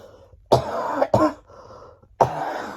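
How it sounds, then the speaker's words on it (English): A person recovering from a weeks-long illness coughs three times nearby, harsh throaty bursts with short pauses between them, heard alone without any talk. "I'm coughing nowhere near as bad."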